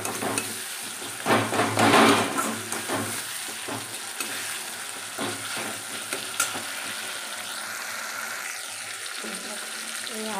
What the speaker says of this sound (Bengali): টমেটো আর আদা রসুন দিয়েছি,